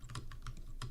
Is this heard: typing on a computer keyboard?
yes